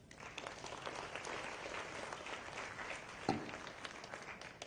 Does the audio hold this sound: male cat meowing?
no